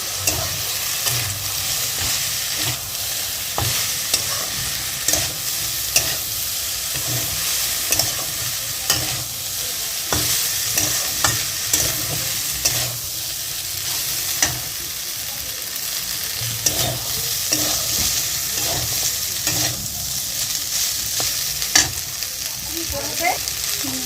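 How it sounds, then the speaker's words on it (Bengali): Boiled pasta stir-fried in a pan with chicken and soy sauce gives a steady, close sizzle with frequent scraping and clattering strokes of the spoon throughout, with no talk. "এরপরে পাস্তাগুলো সেদ্ধ করে রাখা যেগুলো ছিল সেগুলো দিয়ে দেওয়া হলো"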